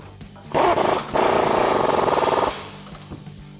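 Impact tool spinning a 21mm swivel socket onto bolts on a 2019-2025 RAM 1500 upper control arm install: a short loud burst, a pause, then a longer hammering rattle of over a second, close and alone, fading out.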